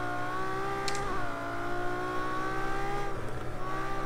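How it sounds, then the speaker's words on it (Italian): A Ferrari LaFerrari engine accelerates in the racing game Project Cars 2. Its smooth, high whine dips briefly as if shifting, then holds a steady drone at moderate volume, with no talking. "e si fa ululare questo motore, che poi è ultra tecnologico questo qui della Ferrari"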